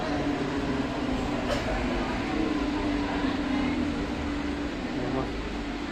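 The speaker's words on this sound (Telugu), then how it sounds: "ఇప్పుడు మీరు చూస్తున్న ట్రైన్ వచ్చేసి గద్వాల్ రైచూర్ ప్యాసింజర్ అనమాట ఇది" A Gadwal–Raichur passenger train sounds as a steady, broad rumble with a low droning hum, constant and fairly loud throughout, with no distinct horn or clacks standing out.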